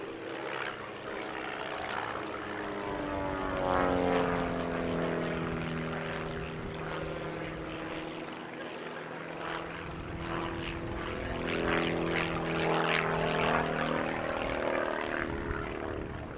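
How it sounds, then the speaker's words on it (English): Three propeller aircraft make an opposition pass at an airshow in the Midlands, engines droning with shifting, sweeping tones as they approach and cross, rising to two loud peaks over a steady buzz. "The finale of the show is a technically very impressive 3-ship opposition pass."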